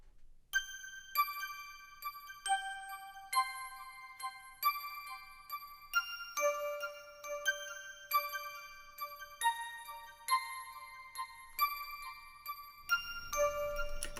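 A bright bell sample from a D50 synthesizer in a pluggnb beat chimes repeatedly, each strike smeared into trailing echoes from heavy delay, forming a steady ringing pattern with no voices.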